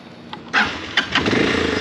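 In Madagascar, a touring motorcycle used for a long road trip to Cap Nord coughs, then catches and fires into a close, loud, steady engine idle with a few brief revs. No voices are heard.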